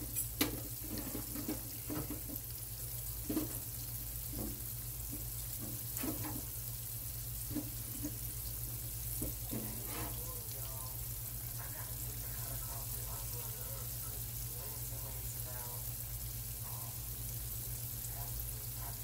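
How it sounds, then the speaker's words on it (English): Ribs frying in a pan on a home stove, a steady hiss and sizzle with some clattering stirring and tapping, and a voice speaking now and then over it. "I'm going to go ahead and fry up every last one of them"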